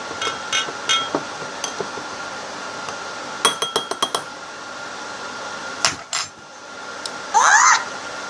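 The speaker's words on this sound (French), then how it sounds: "on va touiller quand même un peu" A spoon clinks against a glass while a mixture is stirred, with scattered sharp taps that come in a quick cluster midway, then a brief burst of scraping near the end.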